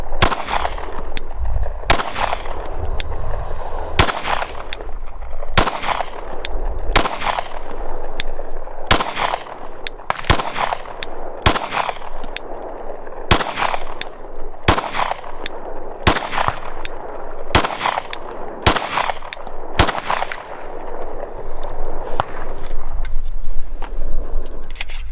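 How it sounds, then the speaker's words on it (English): Pistol gunshots ring out during shooting drills, about fifteen sharp cracks spaced one to two seconds apart in a steady rhythm, loud and close, with faint range noise between them. "getting a good, nice, hard front sight on the dot and pressing the shot"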